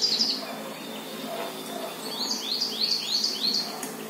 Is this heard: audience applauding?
no